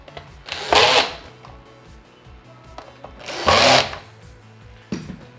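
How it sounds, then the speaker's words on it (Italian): A drill in screwdriver mode with a medium clutch drives screws into the plastic upper shell of an ET 340 carpet beater, in two loud bursts of whirring separated by quieter clicks and handling noise, with a third brief burst at the end. "Se utilizzate un trapano, vi ricordo di utilizzare la funzione avvitatore"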